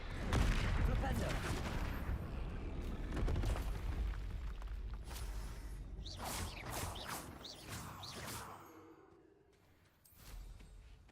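A Flipendo spell cast in a video game: sharp whooshing bursts and booming impacts in quick succession amid game combat noise, loud and up close, fading toward the end.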